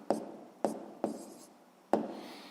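Four sharp taps and short scratches of a pen or pencil writing an answer by hand on paper, close and quiet, with brief pauses between strokes.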